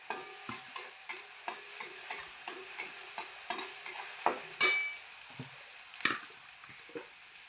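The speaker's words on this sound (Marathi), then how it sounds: "कांदा चांगला लाल परतून घ्यायचा." Onion fries in a pan while a spatula stirs it in regular scraping strokes, about two per second. The strokes sit over a soft, close sizzle, with a couple of louder knocks near the end and no talk.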